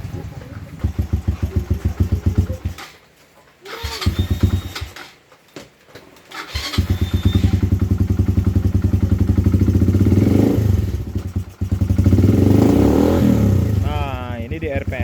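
A carbureted KTM motorcycle engine starts up and revs repeatedly in rough, throbbing bursts; after a short sputter and pause it settles into steady loud running with rises in pitch, close by, with a voice talking over it.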